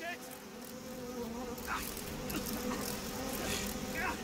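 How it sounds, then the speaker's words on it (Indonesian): A fly or wasp buzzes steadily in the horror game Outlast 2, a continuous close drone running under ambient game noise. A few brief scrapes or rustles break through now and then. "Dan ini apa ya semacam lalat tawon apapun itu"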